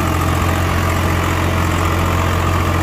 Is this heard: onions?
no